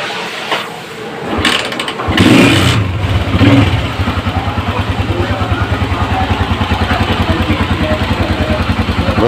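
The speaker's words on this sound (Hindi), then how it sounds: "इंजन का माशाल्लाह साउंड भी बहुत प्यारा है, बिल्कुल स्मूथ खड़ी हुई है बाइक" A United 125 motorcycle, a Euro 2 CG 125 type, starts with a rough burst and then settles into a steady, close idle with an even, rapid thumping beat.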